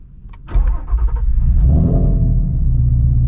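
A Shelby GT350 V8 fitted with a new twin-disc clutch cranks and fires, then settles into a loud, deep, steady idle rumble close by.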